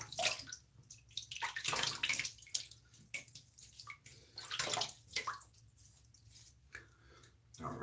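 Water runs and splashes as cheeks are wetted by hand before a wet shave. Irregular bursts of close splashing and trickling rise and fall against a quieter running-water background.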